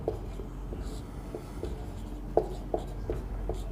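A hand writes during a class 12 physics lesson on electric flux, with a series of close, light pen strokes and small scratchy ticks tapping out an irregular rhythm.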